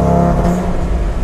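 An Audi RS3 engine in S mode with launch control is revved while stationary, a loud, close, throaty burble with a steady held note that then drops and settles, heard alone.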